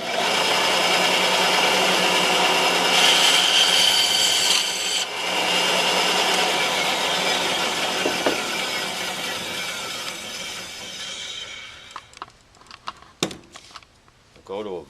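A handsaw cuts through the wooden handle of a farrier hammer. Steady back-and-forth strokes rasp loudly for about eleven seconds, then break into scattered knocks and scrapes as the cut ends. A voice speaks briefly over it.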